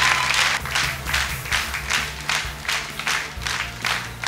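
A hall audience at a talent-show final claps loudly in a full, crowded burst, the applause swelling and pulsing over soft background music.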